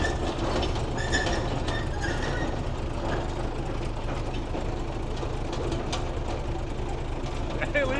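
An old bulldozer pulled from an abandoned barn, clattering and rumbling steadily as it drives, with metallic squeaks and rattles over the engine and an excited voice talking.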